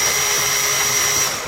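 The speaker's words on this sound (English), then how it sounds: "Go into the hole here and move the drill around as much as you can." A small power drill whirring steadily as it enlarges a hole in laptop plastic during a power jack repair, a close, continuous high whine that eases off slightly at the end, with no talk.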